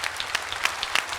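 An audience claps for a performer at a Pongal celebration show, a brief burst of dense, steady applause from a crowd.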